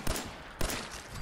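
Two sharp gunshots ring out in the video game Fallout 4, each a loud, punchy blast followed by a short decay, spaced about half a second apart.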